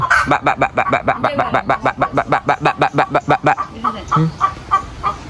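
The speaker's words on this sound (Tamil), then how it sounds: "கோழியை பாருங்க" A chicken in a home garden in Jaffna clucks in a rapid, regular series of sharp calls, close and loud, then trails off into softer, scattered clucks.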